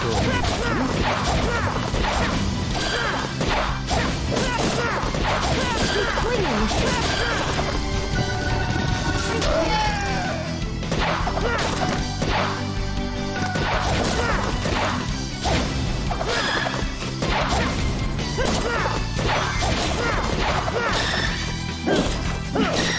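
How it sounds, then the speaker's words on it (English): In the game Sonic and the Black Knight, hard stone is smashed repeatedly, with loud crashing impacts, whooshing swings and mechanical clanks layered densely over game music for the whole stretch. "This stone is quite hard and difficult to shatter."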